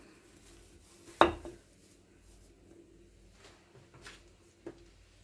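A glass bottle is set down among coffee corner decorations, one sharp clink of glass on a hard surface, followed by a few faint, softer knocks as it settles in a quiet room.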